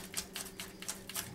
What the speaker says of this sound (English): just give them a little chop with the knife. This is the rocking motion.